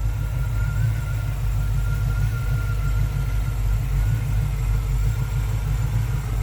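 A 1981 GMC Sierra K1500 pickup idles with a steady low rumble, close and continuous, its engine note holding even without revving and no voices over it.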